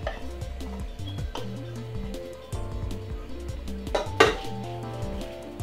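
Melted chocolate is mixed into Rice Krispies in a bowl, producing repeated spoon clinks and scrapes against the bowl at close range with an uneven rhythm, over a steady background of music.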